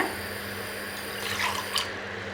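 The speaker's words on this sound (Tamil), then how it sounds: "ஒரு ½ கிளாஸ் வந்து வாட்டர் ஆட் பண்ணிக்கோங்க" Water from a glass poured into a pan of milk on the stove while cooking beetroot pal kolukattai, a faint trickle and splash under a steady low background hum, ending abruptly.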